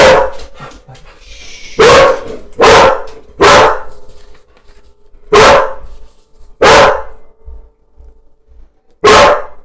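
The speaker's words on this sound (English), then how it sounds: "My dog started barking here, so a little interruption." A dog barks loudly and close by in about six sharp, separate bursts spread unevenly across the stretch, with quiet pauses between them.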